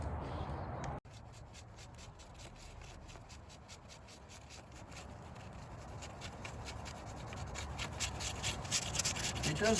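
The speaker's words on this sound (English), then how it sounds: "You can see he's just sanding that down just a little, sands one side of the rock and then the other." Steady, rhythmic sanding scrapes against a stacked stone column, close and fairly quiet, growing slightly louder toward the end, with no talking.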